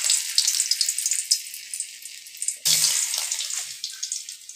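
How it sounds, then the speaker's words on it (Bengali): Potatoes fry in a kadai of hot oil with cumin tempering, a steady hissing sizzle that swells in a sudden louder burst partway through, close and alone with no talk. "প্রথমে আলুগুলো ভেজে রাখছি"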